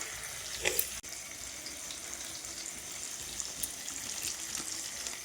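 Tomato curry frying in a pan as Kashmiri chili powder goes in, a constant close sizzle with a brief clatter and a soft knock near the start, then even crackling with no voices.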